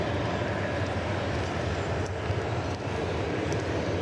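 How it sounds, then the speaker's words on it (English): A United jetliner's engines roar steadily at DFW Airport, a broad continuous rumble holding at moderate distance for the whole stretch with no voices over it. "See how far we can follow this United jetliner."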